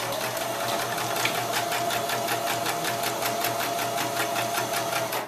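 A sewing machine stitches an infinity scarf with a straight regulation stitch, running at a steady, fast, evenly pulsing rhythm, close and loud, without pause for the whole stretch.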